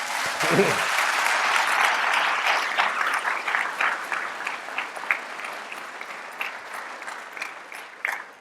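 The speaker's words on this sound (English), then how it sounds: "Applause." Enthusiastic applause from a large audience at a medical school white coat ceremony, loud and sustained, gradually thinning into scattered claps toward the end.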